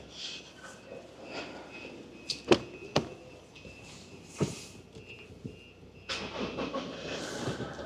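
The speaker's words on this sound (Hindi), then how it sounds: "गाड़ी स्टार्ट कर देते हैं।" A 4x4 vehicle engine starting, with a few sharp clicks and clunks followed by the engine catching into a broader rumble near the end.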